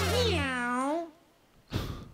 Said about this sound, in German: Gott, dieses Miau.